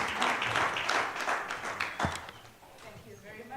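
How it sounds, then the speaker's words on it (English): An audience at a media and sustainability summit claps, a dense patter of hands that swells briefly and then fades, with a speaker's voice audible over it. "We may give them a round of applause."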